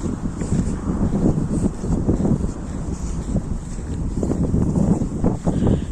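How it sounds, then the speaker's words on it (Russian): Wind blowing hard through trees during a ground-level snowstorm, a steady, dense roar with gusting surges, loud and continuous with no voices. "Слышите, как деревья шумят?"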